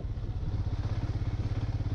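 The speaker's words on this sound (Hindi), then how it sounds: "हम गाड़ी स्टार्ट करता हूँ वाराणसी के लिए।" A motorcycle engine on a road trip toward Varanasi runs with a steady, deep rhythmic thumping, close and loud, its low pulses even throughout with no talk over it.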